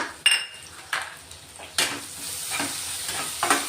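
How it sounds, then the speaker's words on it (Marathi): Thick ginger-garlic paste frying with browned onions in a pan, a close hiss of sizzling oil punctuated by four or five spatula clinks and scrapes against the metal, with no talking. "आता आलं लसूणची पेस्ट टाकून घेतोय आपण थोडी जाडसरच केलेली आहे"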